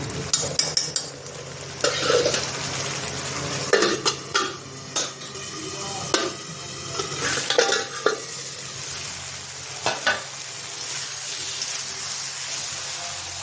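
Tomato masala stir-fried in a pan for soybean kofta, with steady sizzling and frying and repeated scraping clatters of a spoon stirring against the pan, close and continuous with no talk.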